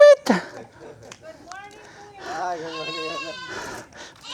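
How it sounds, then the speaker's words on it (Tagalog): A goat bleats at a farm site where piggery building materials are arriving, with several wavering bleats close by while people talk and call out around it. "Sinasalubong kayo ng kambing."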